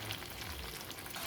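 Chicken cooking in a hot pan sizzles and hisses as water is poured in, a steady broadband frying roar held close and constant for the whole short moment, with no voices.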